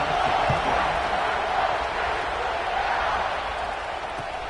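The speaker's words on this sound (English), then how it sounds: "this crowd is buzzing after that last score" A stadium crowd at a football game buzzing after a score: a dense, steady murmur of many voices that stays loud and gradually fades slightly, with no distinct cheers standing out.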